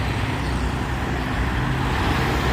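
A Hino 500 truck hauling a trailer climbs a hill road, its engine giving a loud, steady, unbroken roar close by, with no talk over it.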